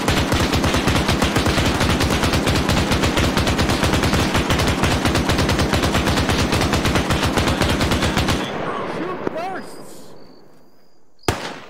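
Sustained rapid automatic gunfire in the Arma 3 military shooter, loud and close with dense regular bursts for about eight seconds, then stopping abruptly into quieter ambience with a single sharp shot near the end.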